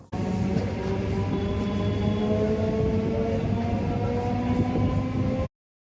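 A Canning suburban local train from Sealdah rumbles along the tracks, a loud, steady close-up roar with humming motor tones that cuts off abruptly.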